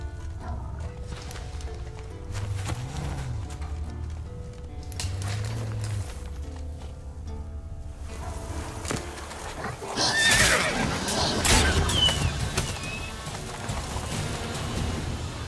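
Roach, Geralt's horse in The Witcher 3, neighs loudly a couple of times over steady clip-clopping hooves. The galloping then grows heavier and louder against a noisy outdoor backdrop.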